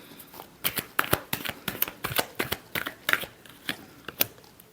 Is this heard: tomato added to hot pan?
no